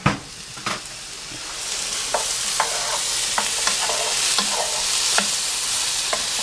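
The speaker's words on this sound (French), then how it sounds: "Donc là, on va ajouter les oignons." Onions added to courgettes frying in a pan, giving a steady loud sizzle with scattered stirring scrapes and clacks throughout, no voices.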